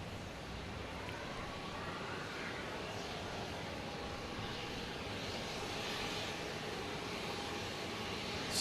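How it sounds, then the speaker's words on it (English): Airbus A380 jet coming in to land at Boston Logan, a faint, distant broadband rumble holding steady throughout with a breezy wind hiss mixed in. "It's the A380 coming in."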